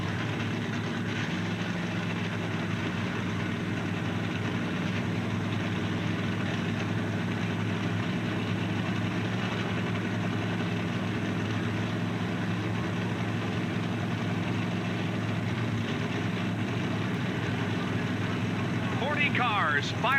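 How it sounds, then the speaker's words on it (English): A field of stock car engines idles in a steady, droning rumble at the 1990 AC Delco 500 at North Carolina Motor Speedway, holding even throughout. "Cars fire to life as we get set to bring you the best 3 hours of the AC Delco 500"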